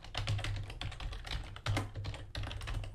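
Someone types code on a computer keyboard, with rapid, close clicking keystrokes that run continuously and pause briefly at a couple of points, with no voice.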